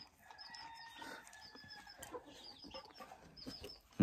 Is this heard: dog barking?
no